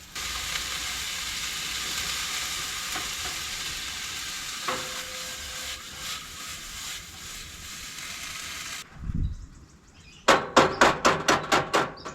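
Bacon frying in a pan, with a loud, continuous sizzle and crackle that cuts out near the end, followed by a brief rumble and a quick series of sharp metallic taps.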